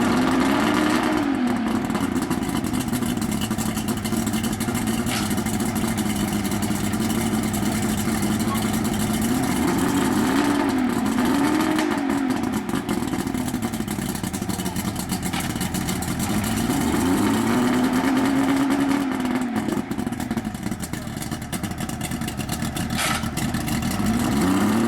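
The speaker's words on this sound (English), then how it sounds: "we're gonna start the other engine now" A Grady-White Sailfish boat's outboard engine starts and rumbles steadily nearby, its pitch rising and falling a few times as it revs and settles back to idle.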